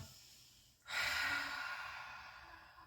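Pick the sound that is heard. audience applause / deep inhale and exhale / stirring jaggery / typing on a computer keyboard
deep inhale and exhale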